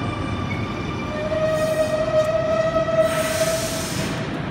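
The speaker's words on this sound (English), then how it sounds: "City Circle service now departing platform number 1." Sydney M16 City Circle train pulling away from Wolli Creek platform, a steady rumbling roar with a sustained tonal whine rising through the middle, heard close and continuous without speech.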